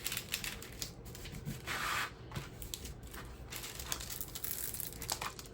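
Clear plastic film peeled and replaced over a diamond painting kit's poured-glue canvas, giving soft crinkling and rustling in short bursts, close up and fairly quiet, with no voices.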